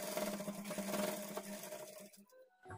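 A sewing machine runs in a steady, fast whirring burst while stitching a folded edge of blouse fabric, then slows and stops with a few small clicks near the end; fairly faint and close.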